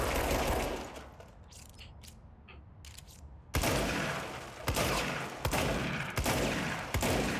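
Loud shotgun blasts from the video game Control, five sharp reports at roughly even intervals in the second half, each with a ringing tail, following a stretch of quieter ambient noise and faint clicks.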